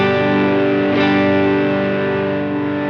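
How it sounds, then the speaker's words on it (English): A sustained, saturated electric guitar chord rings steadily, a clean tone layered with gritty overdrive, loud and continuous with a slight swell near the middle. "you'll hear the clean signal and the overdrive together"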